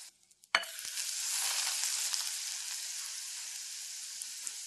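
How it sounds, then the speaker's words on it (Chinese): Hot oil poured into a bowl over chopped scallions, minced garlic, chili powder and a little cumin, starting with a sharp crackle and settling into a steady, bright sizzle that continues close and alone. "在碗中泼出热油"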